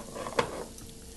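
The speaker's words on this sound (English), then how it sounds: "But you can see it sizzle." Steak and green beans sizzle in a hot pan, a soft crackling hiss broken by one sharp clink of a utensil against the pan partway through.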